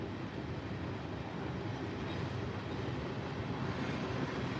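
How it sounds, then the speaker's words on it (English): Trains rumble along the tracks in a steady, dense roar, one passing each way, continuous and fairly close with no voices. "the trains are really going. You got one going that way, you got one going this way."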